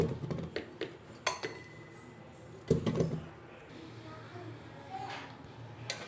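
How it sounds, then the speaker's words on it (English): Washed sweet potatoes dropped and shifted into a metal pressure cooker in a home kitchen, giving a few sharp clanks and knocks spaced irregularly, with quieter rustling between them. "take this cooker, put all these sweet potatoes"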